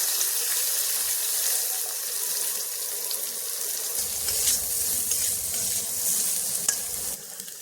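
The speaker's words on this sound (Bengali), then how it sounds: "এখানে পেঁয়াজটা হালকা ভাজা হয়ে গেছে" Sliced onion and green chilli frying in oil, a loud continuous close-up sizzle with bursts of crackling and the scrape of stirring, no talking.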